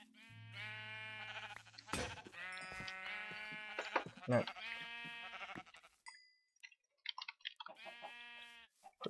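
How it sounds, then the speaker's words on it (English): Sheep in the Minecraft video game bleat repeatedly in loud, close, wavering calls, several overlapping, alongside clicking and a brief spoken word. "Quickly kill these sheep."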